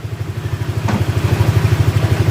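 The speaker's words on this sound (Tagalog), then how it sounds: "Ayan, tinanggal ko yung TPS mga sirap. Tumaas yung RPM niya." A motorcycle engine runs close by with its TPS sensor unplugged, a fast even thumping idle that climbs in speed and loudness, with a brief clank partway through.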